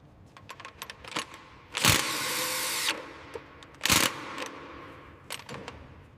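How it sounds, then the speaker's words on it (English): A power tool torques bolts on a heavy truck axle during a restoration, giving two short loud bursts of whirring with small metallic clicks and taps between them, close by and with no talk. "Just need to torque these bolts."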